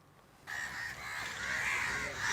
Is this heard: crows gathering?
yes